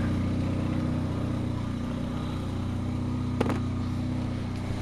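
Honda car engine idling steadily and fairly close, a low continuous rumble with one brief sharp knock partway through.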